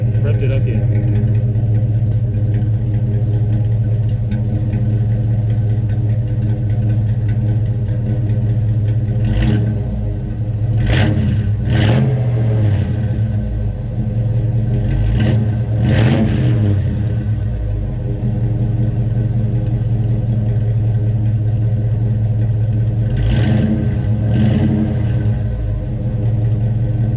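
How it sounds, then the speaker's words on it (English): A Chevelle V8 with new single-chamber dual exhaust idles with a steady low rumble, then gets a few short blips of the throttle, each rev rising sharply and falling back, spaced across the stretch with talk in between. "Let me give you a few small revs."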